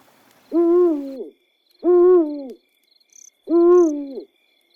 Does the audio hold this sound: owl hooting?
yes